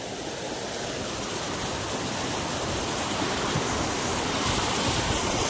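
A constant, full roar of falling water, even and unbroken, from a waterfall in natural surroundings heard fairly close, with water running beneath rocks.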